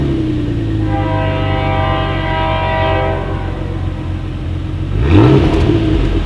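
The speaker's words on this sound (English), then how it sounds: "As always, here is that exhaust clip." A 2019 Ford Explorer with dual exhaust idles and revs with a low, steady rumble, holding a droning tone before a sharper rise in pitch and volume near the end, with no talking.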